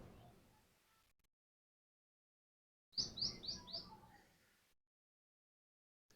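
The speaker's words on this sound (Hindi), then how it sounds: "ये पक्षियों के कलरव गान" Birds chirping in a natural setting of trees and valleys: a quick run of four or five bright, high chirps in a burst lasting about a second, faint and alone after a stretch of silence.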